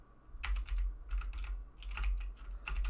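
Rapid clicking of computer keys in short bursts with brief pauses, close by over a low steady hum, no one speaking.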